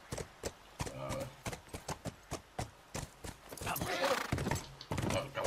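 A horse's hooves clip-clop in The Last of Us on PS4, steady sharp strikes at a walking pace that quicken into a louder, busier clatter with a snort partway through.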